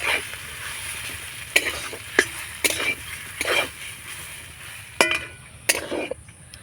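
Grated boiled potato stir-fried with spices in a pan, low frying sizzle under repeated sharp scrapes and clinks of a spoon against the pan at irregular intervals.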